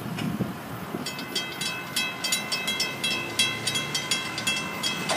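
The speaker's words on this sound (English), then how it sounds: "There she goes, all the way down to Hialeah." An FEC freight train passes heading toward Hialeah, its wheels beating a steady, loud clickety-clack rhythm as each car rolls by, with a constant rumble beneath.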